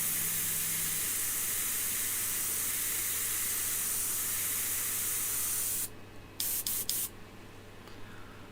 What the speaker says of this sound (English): This is where my airbrush spits and ruins everything